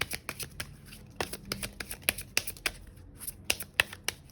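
A deck of tarot cards being handled, with quick crisp flicks, taps and snaps of cards in an irregular patter, close and fairly quiet, with no talking.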